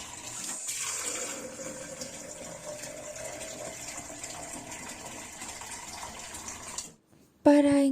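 Tap water gushes steadily into a cooking pot being filled to one litre, a continuous hissing pour that cuts off abruptly near the end, followed by a brief sharp sound.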